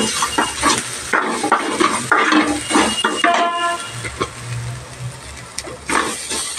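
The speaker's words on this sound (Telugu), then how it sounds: "మరొకసారి కలుపుకోవాలి." A spoon stirs curry in a pan after turmeric goes in, scraping and clinking steadily over a soft sizzle, with short bursts of hissing oil close by and no voices.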